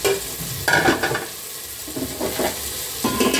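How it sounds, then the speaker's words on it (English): Tomatoes and onions are stirred into a frying sardine (omena) mixture in a pan, giving close, rhythmic scraping stirs over a constant sizzle. "We mix in the tomatoes and the onions."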